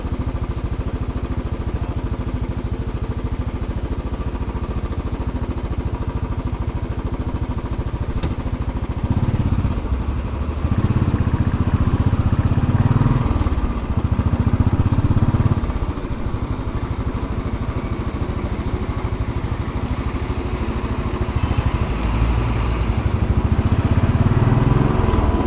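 A Royal Enfield Bullet 500 single-cylinder engine thumps steadily while riding along Fifth Avenue in New York City, loud and close, with the throttle swelling in several surges over constant city road noise.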